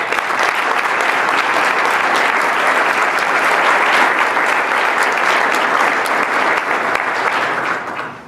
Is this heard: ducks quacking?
no